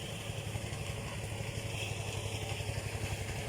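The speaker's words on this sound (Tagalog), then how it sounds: "Kung marinig nyo po ang ating sounds, yan po ay tunog ng makina ng tracer." The engine of a rice thresher runs steadily beside a rice field at harvest, a continuous low mechanical drone with a regular pulse, moderately close and with no talk over it.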